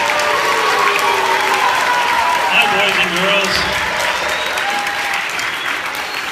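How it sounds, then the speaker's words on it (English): Fifth-grade students applaud at a school event introducing a band, a loud, continuous wash of clapping from a large young crowd, with a voice briefly speaking over it. "let's applaud."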